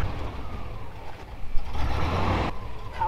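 A heavy truck engine runs close by during a roadside recovery of a stuck vehicle, giving a steady low rumble that swells midway, with a voice faintly underneath.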